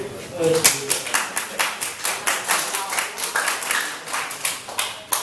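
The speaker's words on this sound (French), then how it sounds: "Applaudissez." Audience in a French-language debate on equality between men and women claps in a steady, moderately loud round of applause, individual hand claps standing out near the listener, with faint voices murmuring underneath.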